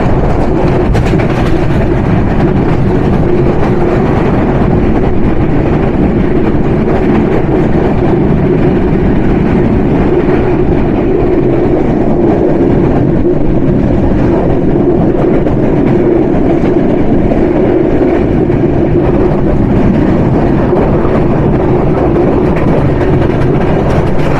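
The Panchagarh Express runs at about 80 km/h, a loud, continuous, close rumble of wheels on track with a heavy low-end roar and faint clickety-clack throughout.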